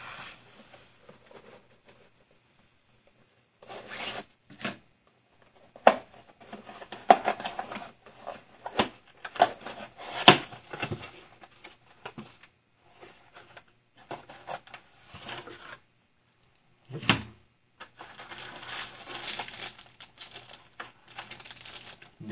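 Packaging of a cheap selfie drone being opened, with bursts of crinkling plastic, tearing and cardboard rustling separated by pauses, close and fairly loud, no talking.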